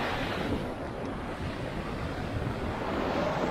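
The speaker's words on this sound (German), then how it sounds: "So, hier, ich bin bei dieser Weserwehr angekommen. Da, wo Wasser runterfällt." Water pours over the Weser weir in Bremen, a steady broadband roar heard from nearby, constant and unbroken, with some wind buffeting the microphone.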